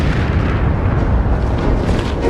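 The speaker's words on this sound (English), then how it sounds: "The rocket, of course, slowly comes back down on the pad, just explodes in a massive explosion." The Soviet N-1 rocket explodes on its launch pad, a continuous loud, rumbling roar of blast noise that stays dense and sustained throughout, with no voices.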